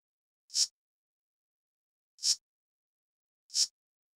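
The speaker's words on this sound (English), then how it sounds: "And then I had this third hi-hat that was doing hi-hat rolls here and there." Third hi-hat from a hip-hop beat, the one used for occasional rolls, heard here as three isolated bright, sizzling hits spaced unevenly apart, alone with no other instruments.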